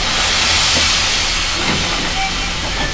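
A steam locomotive lets off a small release of steam, a loud, steady close hiss that runs unbroken through the moment with low rumbling machinery beneath and no talking.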